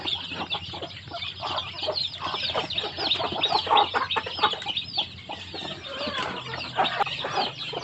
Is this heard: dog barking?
no